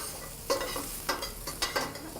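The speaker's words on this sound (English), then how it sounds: "We got a good sizzle on that eggplant." Eggplant sizzles steadily in a frying pan while a spoon scrapes and stirs it in several brisk strokes, close and fairly quiet, with no talking.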